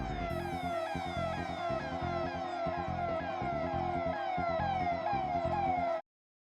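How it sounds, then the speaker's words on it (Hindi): An electronic siren wails in rapid, repeating sweeps, loud and continuous for about six seconds before cutting off abruptly, with no voices. "अब चाहे तो सायरन बजवा दीजिए"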